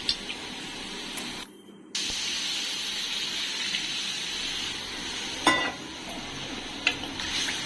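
Tamarind water poured into okra and shrimp frying in a pan, a steady sizzle with a brief drop, then continued bubbling and a few utensil scrapes.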